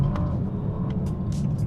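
A 2022 Bentley Continental GT Speed pulls hard after a downshift, a steady low engine rumble and road roar heard from the cabin, with faint intermittent higher noises over the drone.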